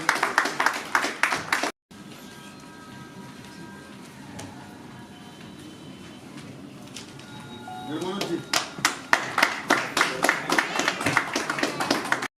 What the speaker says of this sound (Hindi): तालियां होती रहे।